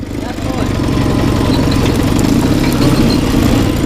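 An MT motorcycle engine runs loud and steady close by on a rural village field, a continuous low throbbing rumble throughout.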